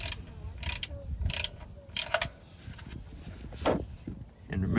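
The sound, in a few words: loosening Toyota Corolla oil drain bolt with ratchet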